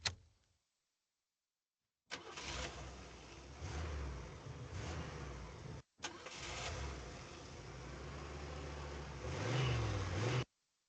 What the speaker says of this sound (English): Listen to some car start sounds.